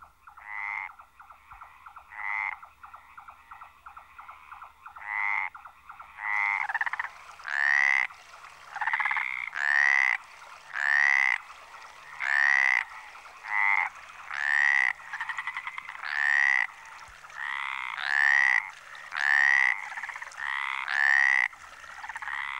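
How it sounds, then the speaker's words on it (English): Stripeless tree frogs croak in clear, repeated calls by water in central Spain, a few scattered at first, then a steady rhythmic series of loud croaks close by. "In March, the tree frogs come down to the water to breed."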